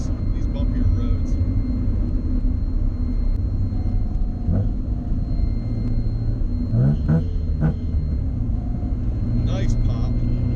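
A sports car engine, either a Mazda RX-7 or a Nissan 300ZX, drones steadily throughout with a low rumble from inside the cabin, rising briefly on the throttle, while a voice talks over it.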